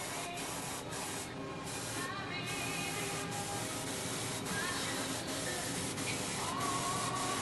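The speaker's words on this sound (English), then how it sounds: "an airbrush lets you get all the light spots where you've gone thin in a candy apple" An airbrush hisses steadily as it sprays candy apple paint over thin touch-up spots, a continuous broadband spray running the whole time with small shifts in intensity.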